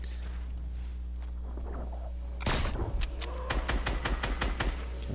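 Gunfire in the Fortnite video game: after a quiet stretch of footsteps and faint movement, a sharp loud shot is followed by a rapid string of crisp cracks, with a steady low hum underneath.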